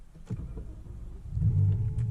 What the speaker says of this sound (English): So let's start it. We have comfort access here where we can just press the start button, and let's listen to that V10.